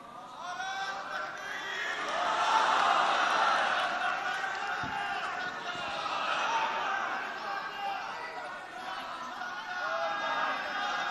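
A large crowd at an Urdu religious lecture in Pakistan chants and cheers in a loud, sustained roar of many voices that swells and stays dense throughout.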